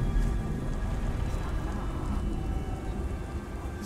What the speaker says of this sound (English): Rain. Goddamn rain.